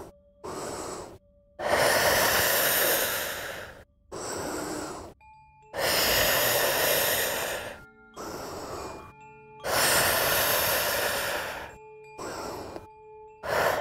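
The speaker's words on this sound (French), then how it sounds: "Inspire vers le haut, expire vers le bas." Slow, deep breaths in and out during a Hatha yoga session, each long and close, alternating with brief pauses in a steady rhythm, over a faint low hum.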